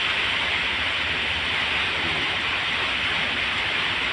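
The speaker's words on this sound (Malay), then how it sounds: "Kita tunggu hujan reda baru kita ambil kapal guys." Heavy rain pours down in Kuching, a dense, steady hiss of falling water that stays even and unbroken throughout, with no voices.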